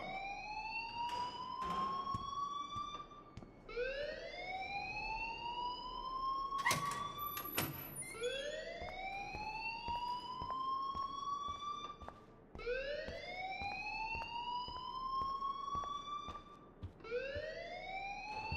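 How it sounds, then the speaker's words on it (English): An alarm ringing in the video game Life is Strange, a wailing tone that sweeps upward and repeats roughly every three seconds, steady and continuous with a few sharp clicks between cycles. "please turn off that alarm since that's your job"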